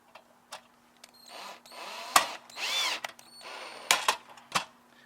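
A power drill fitted with a Phillips bit drives screws into a rolling transport tray in short, close bursts of whirring, separated by brief pauses and small mechanical clicks.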